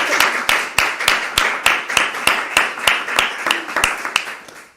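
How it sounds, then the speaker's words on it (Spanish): An audience welcomes Sergio Vila-SanJuán with steady applause, a dense mix of many hands clapping and a few sharp individual claps, holding even and then tapering off at the end. "os pido un aplauso de bienvenida para Sergio Vila San Juan"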